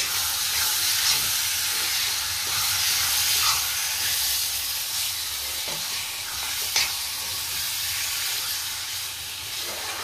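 Local chicken fries with spices in oil in a pan, a steady hissing sizzle with faint stirring scrapes and a few small clicks, heard close and without talk.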